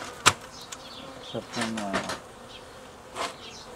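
Honeybees from a queenless colony buzz in short bursts close by around a hive box, while someone speaks briefly over them.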